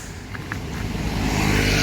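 Saturday road traffic flowing smoothly near a bus parking area rumbles past as a steady low engine wash that swells toward the end, with a couple of faint high clicks early on.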